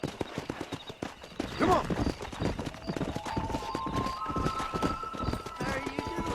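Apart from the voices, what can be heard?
horse hooves while riding in the video game Red Dead Redemption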